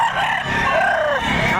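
A rooster crows loudly and close at a chicken market behind SM City Lipa in Batangas, one long drawn-out call with other fowl and market noise around it.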